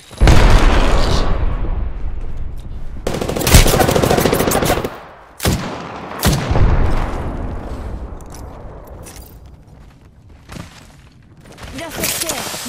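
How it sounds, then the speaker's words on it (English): Grenade blast and bursts of automatic gunfire in the battle-royale shooter Apex Legends, loud and close, with sharp explosive hits around the middle and scattered shots trailing off between them. "Look out, grenade."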